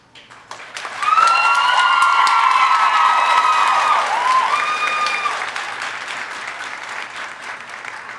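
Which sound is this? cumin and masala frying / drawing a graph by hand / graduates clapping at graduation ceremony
graduates clapping at graduation ceremony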